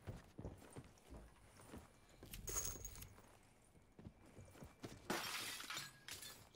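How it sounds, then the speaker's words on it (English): Glass breaking in a first-person shooter, two bright, crunchy shattering bursts a few seconds apart amid faint scuffing footsteps and low game ambience. "Who broke glass?"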